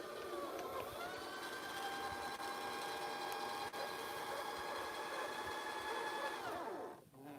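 A sewing machine motor winds a bobbin in one steady, quiet, high whirring run that keeps an even pitch for several seconds, then winds down and stops near the end.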